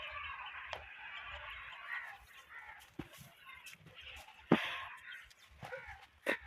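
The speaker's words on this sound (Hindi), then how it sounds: "ये है मुर्गियाँ। वो देखो भाग रही हैं" Chickens running about outdoors, seven or eight of them, clucking and squawking at moderate distance over a faint background, with a few sharper calls breaking through.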